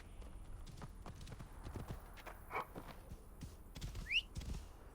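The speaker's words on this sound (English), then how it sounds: "Horse does not want to." Horse hooves in Assassin's Creed Origins, a quiet run of uneven clip-clop thuds scattered throughout, with a brief high whinny-like squeal near the end.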